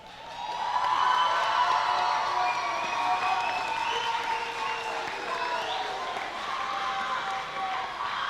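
After a pageant show, an audience gives sustained applause mixed with cheering and whoops. The sound is loud and steady for the whole stretch, and a few voices ring out above the clapping.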